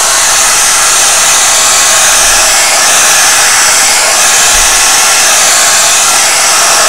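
A hair dryer blows steadily and loudly on wavy hair as it is dried with scrunching, a constant close whoosh with no talking.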